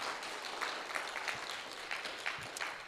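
Scattered, fairly faint clapping from a small lecture audience, uneven and sparse rather than a full ovation, continuing for a few seconds.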